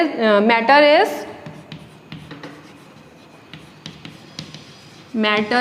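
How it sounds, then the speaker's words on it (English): Teacher writing a definition on a classroom board, soft scratchy strokes and taps in short bursts between stretches of talking. "So I am going to write the definition"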